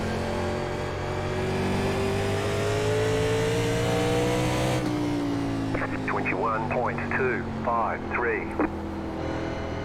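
Several stock car engines from a 1987 NASCAR Legends race at North Wilkesboro Speedway in iRacing drone and rise steadily in pitch, with a spotter's voice talking over them through the second half.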